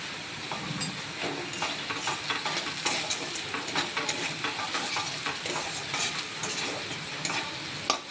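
Potatoes frying lightly in a pan with turmeric, a steady hissing sizzle broken by frequent scraping and stirring, close up and with no talking.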